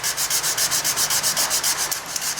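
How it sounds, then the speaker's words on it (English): Rapid back-and-forth rubbing of 240 grit sandpaper wrapped around a flexible rubber backing on a cast part, a close, rhythmic rasping of about a dozen quick strokes. "I'm just wrapping a bit of 240 grit sandpaper around that, and I can sort of bend that into a nice flexible shape"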